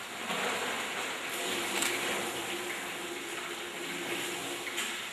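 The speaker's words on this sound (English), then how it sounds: "Also be adding little water too." Water pours steadily into a cocktail mix made with Fanta, a near, continuous trickling and splashing like a running tap, with a few louder gurgles.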